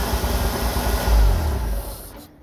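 A Jeep CJ-7 engine fitted with Holley Pro-Jection throttle-body injection runs lean and misses, giving a low uneven rumble with a surge in the middle before the sound drops away and cuts off near the end.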